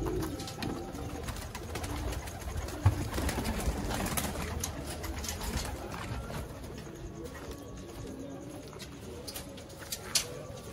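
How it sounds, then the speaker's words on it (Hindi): Several Sialkoti pigeons coo softly and repeatedly amid fluttering and scuffling, a busy flock close by with no talking. "प्रोफेसर इम्तियाज वाले अच्छे कबूतर हैं।"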